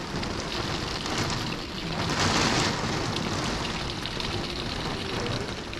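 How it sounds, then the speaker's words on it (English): Hurricane Ian wind driving sideways rain, a steady roaring wash of rain and gusting wind that swells briefly in the middle, with no talk. "Oh, and you can hear the wind."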